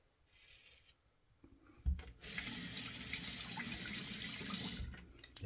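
Warm water runs steadily from a bathroom tap over hands during a stick-soap face lather for shaving, a loud, even splashing rush that starts after a quiet moment and continues for several seconds.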